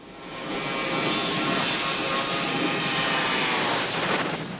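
Airliner cabin in flight shortly before landing at Bombay airport, a loud, steady broadband engine roar and airflow rush that holds constant throughout with no voices.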